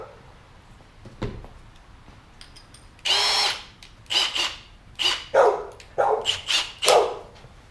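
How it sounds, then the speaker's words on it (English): A power drill with a 3/8-inch bit whirs in several short, loud bursts, starting and stopping repeatedly up close, after a few faint knocks. "So 3/8 drill bit,"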